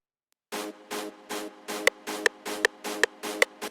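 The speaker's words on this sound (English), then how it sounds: "like the reverse bass, like this." A reverse bass from a hardstyle remix loops in even, swelling pulses, with sharp kick-like clicks appearing on later beats, moderately loud and alone after a brief silent start.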